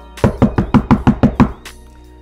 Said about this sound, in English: I'm gonna knock on the door right now, see what we can find out